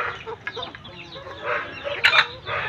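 Rhode Island chickens on a small poultry farm cluck and squawk nearby, with a sharper call partway through and a low hum of farm background.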